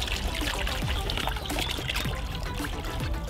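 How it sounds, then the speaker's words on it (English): Water pours in a steady, close, gurgling stream into a large container of distilled white vinegar to dilute it. "I'm gonna have to dilute it with some water."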